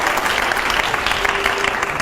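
Dense, steady audience applause fills a live stage event with a large crowd, loud and unbroken throughout.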